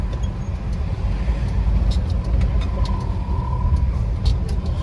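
A vintage VW Bulli van driving through Hamburg streets and turning right, its engine a steady low rumble heard from inside the cabin, with continuous road noise and faint light rattles throughout.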